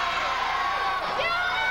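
Crowd at an LPWA women's wrestling event cheering for Desiree Peterson, a dense roar of many voices with shouts and whoops swelling near the end, loud and close.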